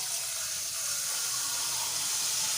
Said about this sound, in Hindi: इसमें थोड़ा पानी डाल देते हैं